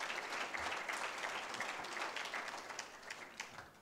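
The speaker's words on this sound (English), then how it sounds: "please give everybody a big round of applause" An audience at an East African business leaders awards ceremony applauds in a dense, sustained wash that holds steady for several seconds and then eases slightly toward the end.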